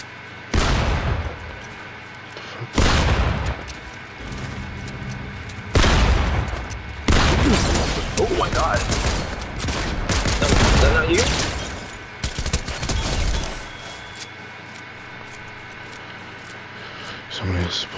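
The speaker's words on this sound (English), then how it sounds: "Oh my god, they're shooting at me." Bursts of gunfire and booming shots in the video game Fortnite, coming in loud volleys with short gaps between them, while a player talks over the shooting.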